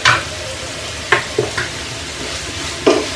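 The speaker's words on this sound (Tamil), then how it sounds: "ஒரு 5 நிமிஷத்துக்கு வதங்கட்டுங்க" Chopped radish sizzles while being stir-fried in a pan, with several short, sharp scraping stir strokes over a steady frying hiss.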